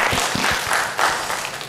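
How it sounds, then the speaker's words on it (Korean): A church congregation claps in thanks during a Sunday worship service, a brief, dense burst of applause filling the room at steady loudness. "오늘 이 일주일 동안 참 지켜주신 하나님께 감사의 박수 함께"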